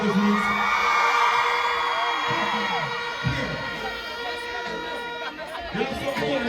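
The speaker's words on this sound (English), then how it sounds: "can you scream again for me, please?" A live concert crowd of women screams and cheers continuously, loud and dense, with a voice talking over the noise.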